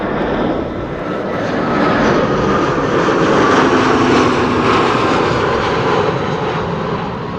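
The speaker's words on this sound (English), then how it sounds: "this is Lufti flight 2304 arriving from Munich, an A320, landing beautifully" A Lufthansa Airbus A320 arriving from Munich lands at Amsterdam Schiphol in windy weather, its engines a loud, steady broadband roar that swells slightly and holds throughout, with no voices.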